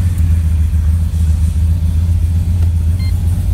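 A drag car fitted with a transbrake and two-step limiter rumbles at a steady, loud, deep idle close by, with no clear rise in revs.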